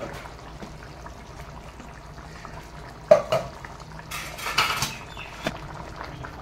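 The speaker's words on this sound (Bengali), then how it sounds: "তারপর ইলিশ মাছগুলো এক এক করে দিয়ে দেবো।" Pieces of hilsa fish go one at a time into a simmering green-chilli hilsa curry, making a few soft splashes and clinks over a low kitchen hiss, with a sharp knock near the middle and a cluster of wetter sounds after it.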